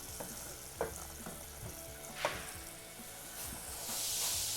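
Mint rice mixture sautéing in a pan, a soft steady sizzle with a few sharp spatula scrapes and taps, growing a little louder and brighter toward the end.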